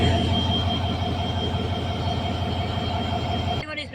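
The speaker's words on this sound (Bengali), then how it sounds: "এই দেখতে পাচ্ছেন বুড়িমারি এক্সপ্রেস চলে যাচ্ছে গাইবান্ধা রেলওয়ে স্টেশনের উদ্দেশ্যে" The Burimari Express, an intercity train hauled by locomotive 3018, passes close by with a steady loud rumble of wheels and a sustained high rail squeal. The noise cuts off abruptly near the end.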